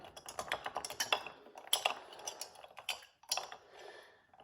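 A large rock ice cube stirred in a drink, clinking and knocking against the glass in quick irregular taps with brief pauses, close and fairly quiet, with no voices.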